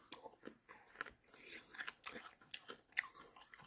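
Someone chewing and crunching stiff 42-year-old gum from a 1981 Fleer baseball card pack, with close, irregular bites and crackly crunches spread over a few seconds at low level.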